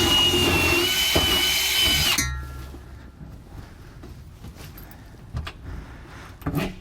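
A power drill with a 21/64 bit bores holes in wood while a MORryde RV cargo sliding tray is fitted to a 2020 Grand Design Momentum; a loud, close whine runs for two seconds, then cuts off, leaving faint handling clatter.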